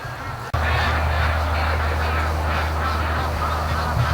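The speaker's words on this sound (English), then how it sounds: "there's the first ducks" Free-range ducks returning from the lake, a flock quacking in a continuous overlapping chorus over steady background noise, with a sharp knock near the start.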